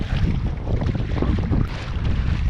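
Strong gusts buffet the microphone on a very windy morning out on the water while squid fishing, a continuous loud roar with rising and falling rushes and no talking.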